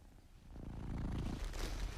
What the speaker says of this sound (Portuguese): E há o ronronar.